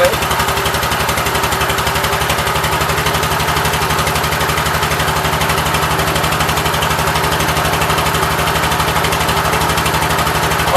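A 1988 Gravely 12G walk-behind tractor's small engine runs steadily at a fast, even idle, loud and close with a constant mechanical buzz and no pauses.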